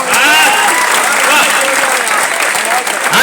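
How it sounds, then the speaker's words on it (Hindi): Audience applause at a large all-India Hindi poetry gathering, a continuous dense wash of clapping from a crowd that stays steady and fairly loud throughout. "अभी तक तालियां बहुत कमजोर हैं।"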